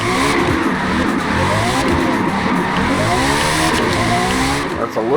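A TVR Griffith drifts in the Forza Motorsport racing game, its engine revving loud and close while the tyres squeal in wavering, sweeping tones that run continuously throughout.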